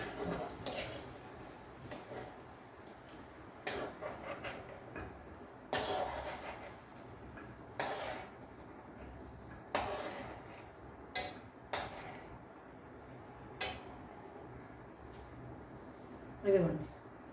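Roasted chutney ingredients are scraped and moved onto a plate, giving a series of irregular clinks and scrapes of utensils against cookware over a quiet background, with someone talking at times.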